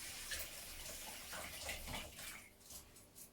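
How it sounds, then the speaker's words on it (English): Tap water runs steadily over laurel leaves being washed in a kitchen sink, a continuous close splashing hiss with slight changes as the leaves move under the stream. "So I'm going to wash my laurel leaves."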